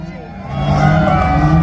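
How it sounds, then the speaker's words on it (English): An audience at a stunt show at the British Motor Show 2021 shouts, screams and cheers for their team. The crowd noise starts moderate and swells louder after the first half second, then stays as a sustained, blended roar. "a little bit of shouting and screaming from the audience and cheering your team on"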